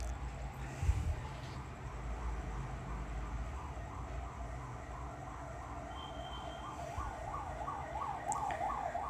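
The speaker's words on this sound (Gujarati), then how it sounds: "સામે મોટી સિવિલ હોસ્પિટલ છે એટલે એમ્બ્યુલન્સનો અવાજ પણ આખો દિવસ આવ્યા જ કરે છે" An ambulance siren wails steadily on the road outside a house across from a large civil hospital, somewhat distant, over a low rumble of passing traffic.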